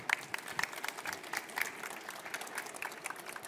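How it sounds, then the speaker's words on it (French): An audience at a tech presentation on SNCF HTTP controls applauds, a steady round of clapping with crisp individual claps standing out. "On peut vous applaudir."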